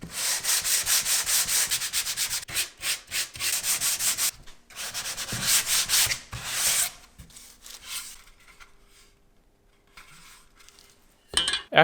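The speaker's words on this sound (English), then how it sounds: "After lightly sanding the edges" Rapid, scratchy rubbing strokes of sandpaper on veneered wood edges come in bursts, pausing briefly, then fade to quiet handling noises near the end.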